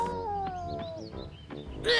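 A cartoon cat meows in a long, sliding cry that falls in pitch and fades, then a sharper yowl rises at the end, loud and close, with no talking.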